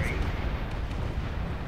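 Explosions in the space game Space Engineers, a dense roaring rumble of blasts and crackling bursts, loud and continuous over the short span, with a brief rising whine at the start.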